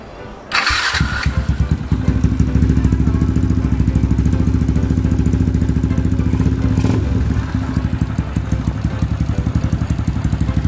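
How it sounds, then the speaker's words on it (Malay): A freshly overhauled LC135 motorcycle engine starts with a burst, then settles into a steady, loud, close idle with a rapid even putter that runs on throughout. "Enjin senyap guys. Enjin memang senyap gila."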